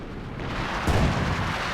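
Artillery bombardment in Company of Heroes 2 rumbles as a deep rolling boom, with one heavier impact near the middle of a brief, dense stretch of battle noise, no talking.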